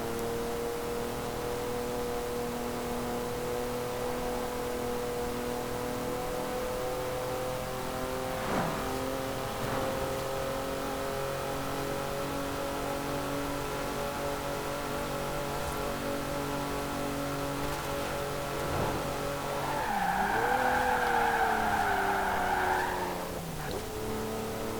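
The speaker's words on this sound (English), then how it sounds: "I'll let you listen to the engine for a little bit" A 2012 Jeep Wrangler Rubicon in the racing game Forza Horizon 4 drones steadily as it cruises, its engine note holding and shifting, with a burst of tire squeal near the end.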